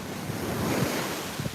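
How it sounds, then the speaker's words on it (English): Ocean waves breaking and surging at a beach, a loud continuous wash of surf with wind buffeting the microphone, close by and with no voices. "I don't want to get hit too hard by these waves and splash up my phone."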